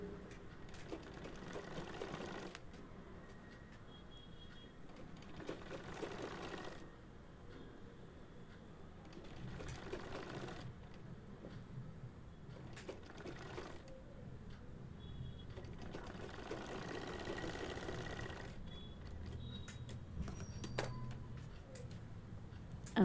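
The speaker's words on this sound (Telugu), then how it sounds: "మళ్ళీ ఇంకొక సైడ్ ఈ విధంగా కుట్టుకోవాలి." A sewing machine stitches the side seam of a 3/4-length umbrella frock in steady runs of rapid mechanical clatter, pausing and restarting several times, close by and moderately loud.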